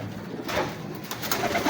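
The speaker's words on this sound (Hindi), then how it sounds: "ये नीले कबूतर भी हैं इनके पास" Soft, low coos from blue pigeons murmur close by, a couple of gentle rolling calls against a quiet background.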